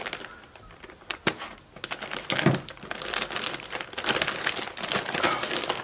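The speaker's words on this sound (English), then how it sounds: "I want to cut the pillow." Scissors snip and crinkle through the material of a pillow, giving a busy run of close, dry crackling and cutting sounds with a few sharper clicks, quiet and with no talk.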